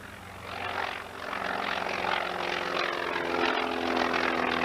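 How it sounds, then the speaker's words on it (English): PBY flying boat taking off at an air show, its propeller engines roaring steadily and loudly as the aircraft accelerates. "the PBY takes off with Bill LeGrand at the controls"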